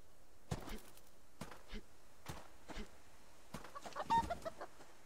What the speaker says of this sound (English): Is chicken ever gonna stop?